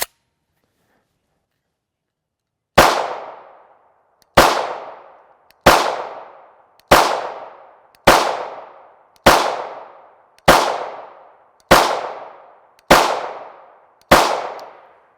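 Ten evenly spaced shots of Fiocchi 5.7x28mm 40gr FMJ ammunition ring out after a few seconds of silence, each a loud, close, sharp report with a short decaying tail, roughly one every second and a quarter.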